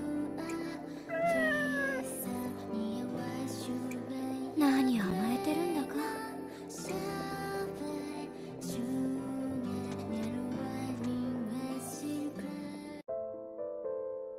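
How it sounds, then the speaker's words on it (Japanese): A black cat in the video game Nights of Azure 3 meows several times, clear and drawn out, over sustained background game music. "こいつはいつもの黒猫だな。"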